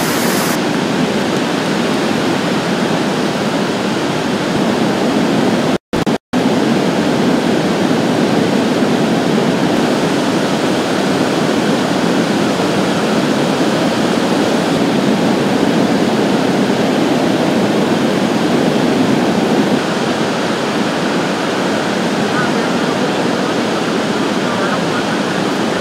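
Floodwater rushing through a drainage ditch after about eight inches of rain in under an hour, a loud, constant roaring wash of broadband noise that stays unbroken for the whole stretch, apart from a momentary dropout.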